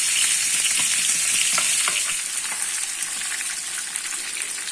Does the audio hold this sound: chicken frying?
yes